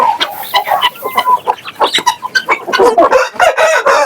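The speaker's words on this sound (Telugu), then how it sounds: "రకరకాల జాతుల పుంజులు, పెట్లు, పిల్లలు మొత్తం సేల్స్ కేనంట." Country chickens of various breeds at a poultry farm: dense, loud clucking from hens and roosters with overlapping calls, including a rooster's crow, filling the whole stretch with no talk.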